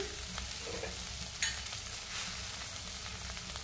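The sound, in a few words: shrimp and duck egg frying in a pan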